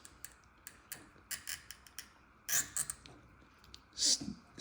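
A glass cutter scoring stained glass along a template, a series of short scratchy ticks and clicks with two louder rasping bursts, close and otherwise quiet.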